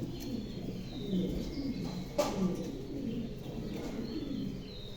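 A male pigeon, a large high-quality breed, coos softly in low repeated murmurs, with faint bird calls and a brief sharp sound around the middle, all heard without talk.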